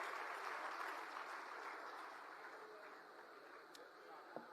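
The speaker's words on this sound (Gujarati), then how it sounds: "જોરદાર તાળીઓથી ગોપાલ રાયજીને વધાવીએ" Steady applause from an audience welcoming Gopal Rai at a political gathering, a dense continuous patter of clapping that gradually eases in level over several seconds.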